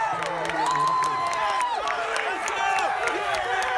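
Teammates cheering and shouting during a college football game, a steady crowd roar with scattered whoops and yells throughout, with some talk mixed in.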